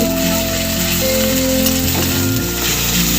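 Garlic paste sizzles in hot oil over onions that have already been fried brown, a steady dense frying hiss throughout with faint stirring noises and a continuous low hum underneath.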